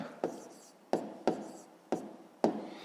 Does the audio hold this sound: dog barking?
no